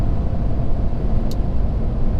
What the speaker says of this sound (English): I'm driving right now, you know, around 70 miles per hour.